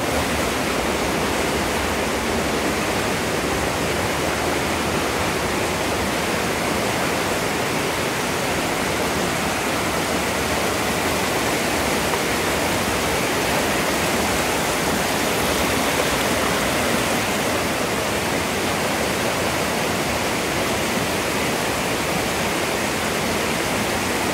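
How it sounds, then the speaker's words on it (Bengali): Strong water current rushing through the Robber's Cave, a loud, dense, continuous roar with no breaks, heard close up and alone. "তোমরা আশা করি জলের স্রোতটা বুঝতে পারছো, কত জোরে জল যাচ্ছে"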